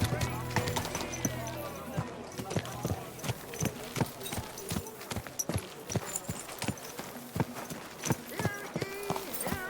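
Steady clip-clop of horse hooves trotting along in the video game Kingdom Come: Deliverance II, a quick even rhythm of hard knocks with faint background sounds, close and clear.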